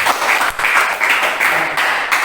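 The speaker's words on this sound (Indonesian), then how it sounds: "Tepuk tangan untuk kita semua" A classroom of students breaks into loud, close applause, dense clapping in several quick bursts with brief dips between them.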